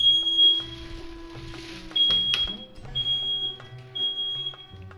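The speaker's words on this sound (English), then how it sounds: "my dummy of a brother somehow got the fire alarm in the bathroom going off simply because the steam in there built up" Smoke alarm set off by bathroom steam, its piercing high beeps sounding in repeated pulses under a low, busy room murmur, with scattered clicks and background tones.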